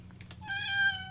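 An indoor cat in a craft studio gives one drawn-out meow, close and clear, rising and then holding steady for about half a second over a low background hum.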